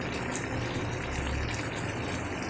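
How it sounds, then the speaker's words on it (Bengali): Ghee pours into a cooking pan with a steady, even liquid rush that holds at a constant level throughout and stays close and moderately loud. "তাই একটু দিলাম হালকা করে ঘি।"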